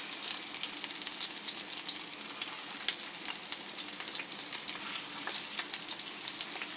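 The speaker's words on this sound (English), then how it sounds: "so I'm going to fry up my meatballs here" Meatballs sizzle and crackle in a pan, a constant close-up frying hiss with sharp pops scattered throughout.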